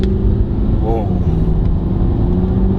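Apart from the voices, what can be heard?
Porsche Cayenne S V8 diesel accelerating from junction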